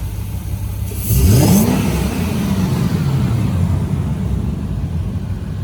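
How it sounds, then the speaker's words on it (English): The 4.0-liter V8 of a 2001 Lexus IS400 revs up sharply once, rising to a loud roar around the first second, then settles back into a steady idling rumble. "I'll give it a couple revs, I guess."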